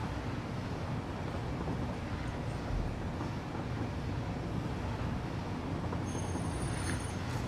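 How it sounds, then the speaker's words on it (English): Steady broadband rumble of a train rolling along rails in the factory-building game Satisfactory, a continuous even drone with no breaks, heard in daytime with no talking over it. "It's kind of nice to be driving around on a train in the daytime."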